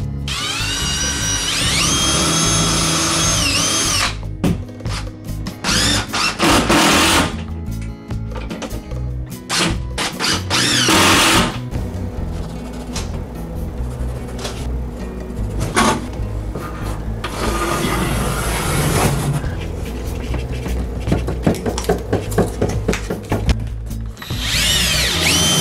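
Bursts of a power tool whir and rattle repeatedly, loud and close, with ratcheting clatter between runs and brief pauses as screws go in.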